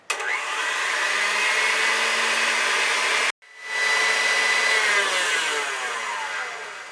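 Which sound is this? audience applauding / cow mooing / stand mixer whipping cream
stand mixer whipping cream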